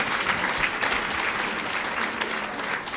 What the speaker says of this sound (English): Let's give each one of them a round of applause.